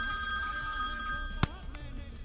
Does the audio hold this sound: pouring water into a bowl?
no